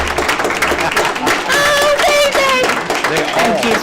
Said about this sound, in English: there's a lot of kids clapping at once